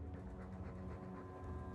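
A dog pants steadily in Dragon Age 2, with soft rhythmic breaths set against a constant, fairly quiet game ambience.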